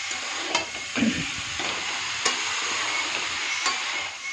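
Bottle gourd being stirred in a pan as it cooks, a soft sizzle with a few brief scraping and clinking strokes, close and fairly quiet, no talking.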